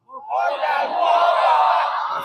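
A group of scout trainees at a training session shout together on command, one loud, sustained collective yell that swells quickly and holds for about two seconds before fading.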